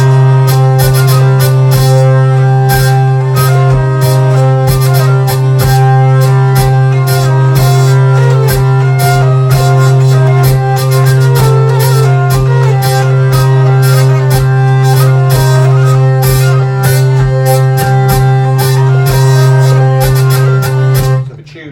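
A hurdy-gurdy plays a tune with syncopated rhythm against the melody, a steady loud drone underneath with bright plucked and buzzing melody notes throughout, close and alone.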